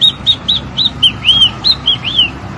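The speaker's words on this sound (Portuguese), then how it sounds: "O canto Bem Te Vi." Song of a great kiskadee (bem-te-vi): a run of about nine bright, clear whistled notes in a steady rhythm, loud and close, with no talk.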